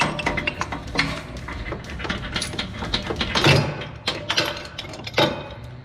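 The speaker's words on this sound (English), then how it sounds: "with a massive pipe wrench holding the yoke, we're gonna torque this down to 160 foot-pounds" A torque wrench tightens the yoke of a Jeep Wrangler JL's 1350 driveshaft to 160 foot-pounds while a large pipe wrench holds it, giving close, repeated metallic clanks and clinks of steel on steel.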